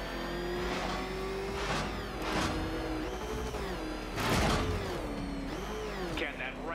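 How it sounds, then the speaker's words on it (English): Engine of the Batmobile in Batman: Arkham Knight revving and roaring in a steady drone with rising and falling pitch, with a loud surge midway, under game music and effects. "Can that ramshackle motor handle this?"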